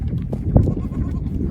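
Goats on a farm bleat in a couple of short calls close by, with one louder cry near the middle over a low background murmur.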